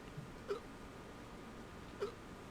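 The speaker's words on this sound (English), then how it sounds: "He has a hiccup." Two soft hiccups from a game character in a Radiata Stories prototype, about a second and a half apart, faint over a low background hum.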